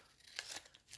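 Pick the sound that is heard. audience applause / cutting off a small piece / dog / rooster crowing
cutting off a small piece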